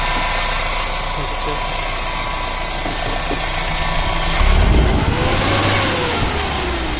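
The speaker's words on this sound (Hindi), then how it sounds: "देखो तो फ्रेंड एकदम बढ़िया रेस लेने लगी है।" A Mahindra BS6 CNG pickup engine with a fault revs up steadily from a running idle, rising in pitch and loudness near the middle before holding a higher rev, heard close with background chatter.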